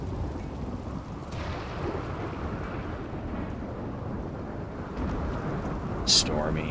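A thunderstorm in the video game Rimworld gives a steady, even rain hiss over a low rumble, with one brief sharp crackle near the end.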